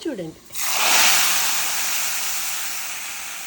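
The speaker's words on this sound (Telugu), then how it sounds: "ఇప్పుడు ఇందులో తాలింపు వేస్తున్నాను" A voice speaks briefly, then a loud, sharp sizzle erupts as tempering of black gram, chana dal and curry leaves hits hot oil, settling into a steady crackling hiss.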